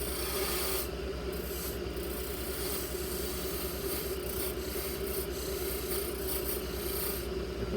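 A steady rasping scrape of a small square-ended parting tool driven into wood on a lathe for turned feet, continuous and close, with a low hum underneath.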